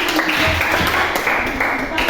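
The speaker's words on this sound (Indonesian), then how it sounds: "tepuk tangan untuk Alfred yang sudah membantu" Classroom applause for a student named Alfred during a teaching practice lesson: a steady wash of clapping from a group of students, fairly close and continuous throughout.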